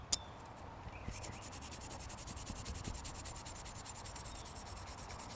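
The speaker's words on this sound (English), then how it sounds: "you use your cloth and you start kind of rubbing it off" A cloth polishes a small name plate, starting with a brief knock and then settling into continuous, rhythmic close rubbing that stays even in level throughout and has no voices.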